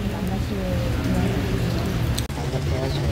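Steady rain falls at a columbarium during a schoolgirl's funeral procession, a dense, continuous hiss that holds for the whole stretch, with a faint murmur underneath.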